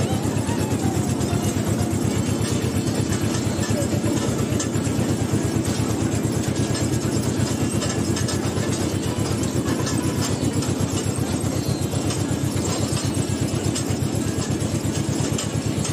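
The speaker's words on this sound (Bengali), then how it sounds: "মাটির রাস্তা দিয়ে, কাঁচা মাটির রাস্তা দিয়ে আমাদের ট্রেন এগিয়ে চলেছে" A park train at Dheusagar Park in Digha rolls slowly along an unpaved dirt road, its engine giving a steady, loud rumble with a continuous mechanical drone and rattle throughout.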